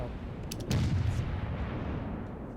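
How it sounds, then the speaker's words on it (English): Heavy 152mm naval main guns fire in the World of Warships game, a brief cluster of deep, muffled booms heard fairly faintly over a low background rumble. "152mm main guns. So it's got some seriously big guns on board"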